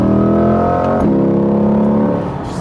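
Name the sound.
2020 Corvette Stingray C8 Z51 accelerating at full throttle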